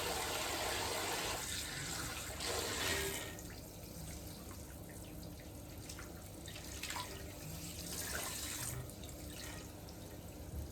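Tap water runs steadily while a man's hair is washed after shaving in a hair-replacement salon, a continuous close hiss that swells and splashes with brief surges as the flow hits hair and sink.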